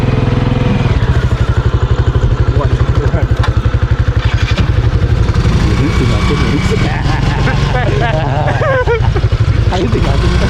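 A motorcycle engine runs loud and close, with a steady low chugging that shifts as the bike rides over dirt ground through Santiong cemetery at night, and voices come through in places.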